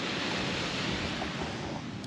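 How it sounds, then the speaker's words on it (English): Ocean waves wash onto a beach at Ningaloo Reef, a steady broad surf roar with some wind, continuous and fairly loud throughout. "so nice sleeping with the sounds of the ocean"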